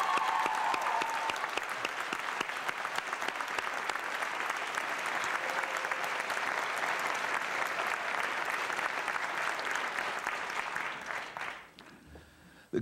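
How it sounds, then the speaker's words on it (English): Steady applause from a large commencement audience at a 2012 graduate ceremony, honoring the faculty; dense continuous clapping fills the hall at an even level for about eleven seconds, then fades away near the end. "I would like now to extend our next applause to the faculty"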